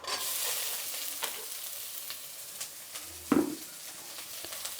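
Dry red chillies and onion fry in oil for Karnataka bassaru, giving a steady, close sizzle broken by soft stirring scrapes and a sharp clank partway through, with no talking.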